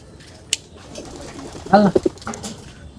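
Racing pigeons in a loft give a short, close burst of cooing midway, with a couple of soft taps around it against a quiet background.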